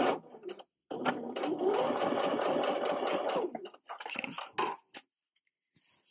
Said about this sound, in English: I'm going to backstitch again